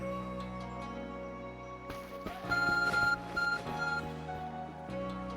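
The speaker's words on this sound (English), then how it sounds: "Your ARC phone is beeping." Electronic beeps from an Arc Phone in the video game Pokémon Legends: Arceus chirp in short repeated bursts over a steady synthetic musical drone, with a brief clatter before them.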